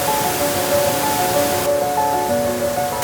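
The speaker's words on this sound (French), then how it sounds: "on a réussi à trouver cette fameuse cascade" A secret forest waterfall roars in a steady broadband rush, loud and close, with faint tonal hints from nearby sounds threaded through and no talk.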